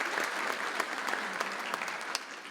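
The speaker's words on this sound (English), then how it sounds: "Give me a round of applause for Connor." Audience applause for a student helper at a gathering, many hands clapping in a steady, moderately loud patter with a few sharper individual claps standing out.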